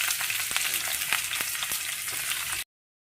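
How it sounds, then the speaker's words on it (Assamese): Onions fry in hot oil in a wok, a dense close sizzle with a few sharp stirring knocks, cutting off abruptly after a couple of seconds. "কেৰাহীত তেল গৰম কৰি লৈছোঁ। পিঁয়াজখিনি ভালদৰে ভাজি ল'ম"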